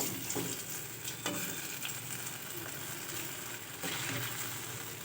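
Urad dal paniyaram frying in oil until lightly golden brown, a faint steady sizzle with a few soft clicks, continuous throughout.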